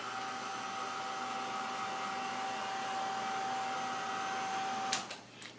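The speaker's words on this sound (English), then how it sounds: "So what I like to do is get my heat gun." Continuous airy whoosh of a heat gun blowing over freshly printed paper, fairly quiet with a thin steady whine, then a few clicks and knocks as it is shut off near the end.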